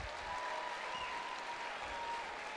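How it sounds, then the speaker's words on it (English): A crowd at a Brandon Sanderson Starsight book release event claps for his team, a dense, even sheet of applause holding steady and fairly loud throughout. "so you can applaud for them"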